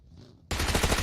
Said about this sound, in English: More and more gunshots at this point.